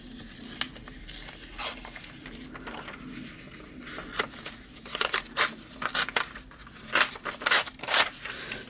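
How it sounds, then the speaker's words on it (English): Scrap paper torn by hand while making a card and envelope, a run of short ripping bursts that grow more frequent and louder toward the end, close by with no talk. "let's rip it about right here"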